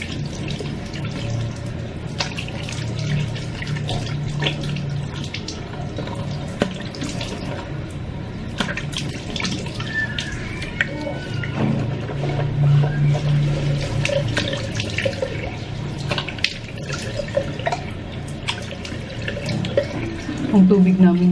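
Tap water runs steadily from a faucet into a sink for a long stretch in a home during hot summer weather, a continuous splashing rush with people talking over it.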